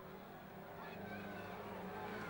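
Stock rod race cars circle a track, their engines a continuous distant roar that builds slightly as the field rounds the pits turn.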